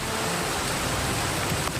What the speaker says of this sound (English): Which communities are dealing with a disastrous downpour.